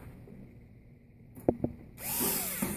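Power drill driving screws into a fixture: a brief whirring burst runs for under a second near the end, preceded by a couple of sharp clicks over a low background hum.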